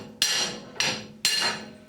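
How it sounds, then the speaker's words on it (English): A hammer strikes a piece of steel set behind a bearing, three sharp metallic clanks with ringing decay, close and loud, with no voices. "I'm just going to use a piece of steel and a hammer, get that behind the bearing and just tap that."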